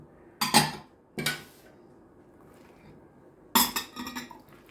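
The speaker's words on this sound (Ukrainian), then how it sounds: "Це все гарненько вимішаю." Dried fruit and nuts (walnuts, cranberries, figs, apricots, raisins, prunes) stirred in a bowl for Christmas stollen, giving three bursts of clinking and scraping against the bowl separated by quiet pauses.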